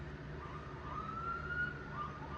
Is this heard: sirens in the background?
yes